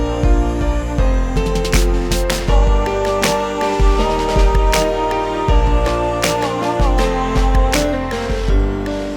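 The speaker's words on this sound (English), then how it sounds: "I started poking away with some digital drum and bass, some piano and some orchestral sounds, and a little bit of marching snare drum" Instrumental pop track built from digital drums and bass, piano and orchestral sounds with a touch of marching snare, playing loud, full and steady throughout with a punchy beat and no vocals.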